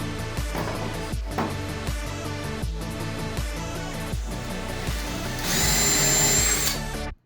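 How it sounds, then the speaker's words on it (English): A power drill bores holes into wooden four-inch dowels in repeated pulsing bursts, then revs into a sustained higher whine before cutting off abruptly. "that's what we're gonna do right now, is do all the drilling for these"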